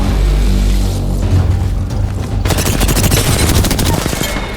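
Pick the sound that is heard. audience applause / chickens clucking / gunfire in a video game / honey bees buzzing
gunfire in a video game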